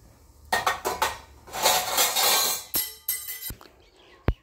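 A metal cooking pot of water handled in a village kitchen while making sago with sugar: a series of sharp clanks and scrapes, close and fairly loud, ending with a bright knock.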